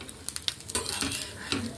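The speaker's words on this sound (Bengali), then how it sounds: "লাল লাল করে এরকম ভাজা করতে হবে।" Chow pakora with capsicum sizzles and fries in hot oil, the steady crackle broken by scraping stirs and light clinks of a utensil against the pan, close up with no talk.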